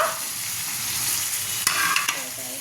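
Spices and onions frying for a fish curry, with salt, turmeric, chilli and cumin powder just added, sizzle steadily while a utensil stirs and scrapes the pan, giving a few sharp clacks near the end.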